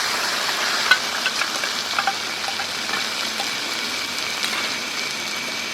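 Ground cumin, ginger and chili paste hit crab frying in hot oil, giving a steady loud hissing sizzle with a few sharp pops near the start and no voices.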